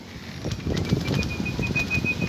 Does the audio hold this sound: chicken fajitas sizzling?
no